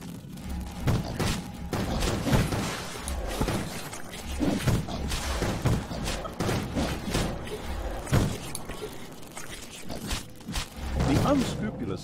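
Rapid gunfire from a skirmish in the video game Dungeons 2, set at a snowy Brotherhood outpost, crackles in dense, overlapping bursts with thuds and clatter, steady and loud throughout, with voices mixed in.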